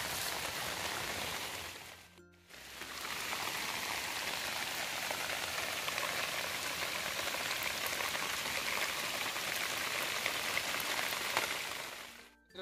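Heavy rain pouring onto a farm field, a dense, steady hiss of drops that briefly drops out near the start and again at the very end, otherwise continuous and enveloping.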